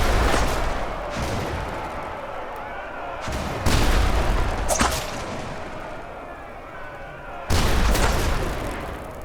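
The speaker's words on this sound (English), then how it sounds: "The tank's shots are sending the ghosts flying in all directions." Tank cannon fire in Ultimate Epic Battle Simulator 2, with a few loud, booming shots spaced seconds apart over a dense, rumbling battle din. A voice talks over the scene.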